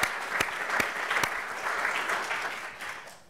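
Audience at a race-director conference clapping, a steady close wash of applause lasting a few seconds and slowly fading at the end.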